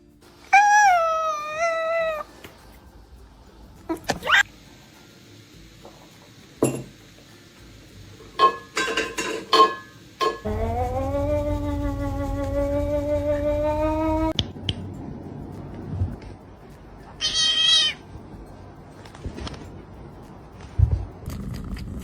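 An angry cat meows repeatedly at close range in drawn-out, wavering yowls, with quiet gaps and a few sharp clicks and knocks between calls.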